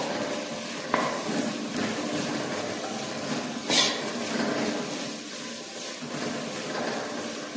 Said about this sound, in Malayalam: ഇനി സവാള ഇട്ട് കൊടുക്കാം. ഇച്ചിരി ഉപ്പൂടെ ചേർത്ത് ഇതൊന്ന് വഴറ്റി കൊടുക്കാം.